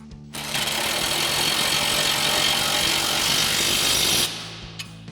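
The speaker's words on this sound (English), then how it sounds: "we'll grab our 18mm socket again on our impact to tighten that down" An impact wrench with an 18mm socket runs down the nut on a front sway bar end link of a 2015-2020 Ford F-150, one continuous loud, buzzing rattle of about four seconds that stops abruptly, then quiet shop noise.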